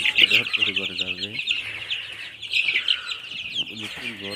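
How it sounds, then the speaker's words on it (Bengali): Sonali chickens cluck and chirp busily as they crowd into their coop, a dense chatter of bird calls, with someone speaking over them in bursts. "এই দেখেন মুরগি মুরগি সব মুরগি আমার ঘরে যাবে।"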